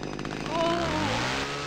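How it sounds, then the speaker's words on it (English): A chainsaw in the horror video game Cry of Fear, a loud steady buzzing engine drone that swells and holds for under two seconds. "That sounds like a chainsaw."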